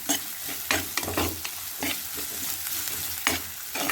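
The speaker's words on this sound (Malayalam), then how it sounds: "നന്നായി ഇളക്കി വാട്ടി കൊടുക്കാം" Onions for sardine curry sizzle and fry in a pan while a spoon stirs and scrapes them in steady bursts, close and moderately loud, with no voices.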